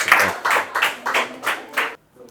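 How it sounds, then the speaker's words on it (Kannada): Schoolchildren in a Kannada school clap in a series of bursts, about five loud waves of applause rising and falling in quick succession before cutting off into near silence. "ಹೊಡಿರಿ ಚಪ್ಪಾಳೆ."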